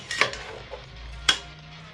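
A spoon scrapes and knocks against a pot of Ofe Achara egusi soup, an Abia state native dish, with two sharp clinks and soft stirring between them, close and fairly quiet, no talking.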